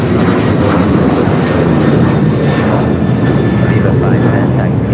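A Boeing 777 airliner on final approach at LAX, its engines giving a loud, close, steady roar that fills the whole stretch without letting up, with a voice talking over it.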